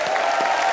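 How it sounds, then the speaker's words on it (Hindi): A studio audience at a Hindi comedy show gives a short, loud burst of dense applause with faint cheering mixed into the clapping. "जोरदार तालियां।"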